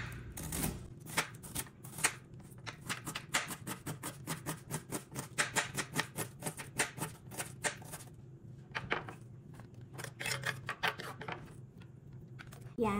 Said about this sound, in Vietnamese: Kế tiếp là Linh cũng xắt hành tím này Linh xay luôn